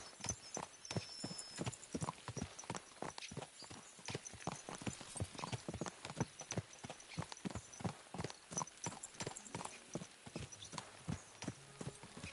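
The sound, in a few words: horses galloping, hooves clip-clopping, in video game Kingdom Come Deliverance 2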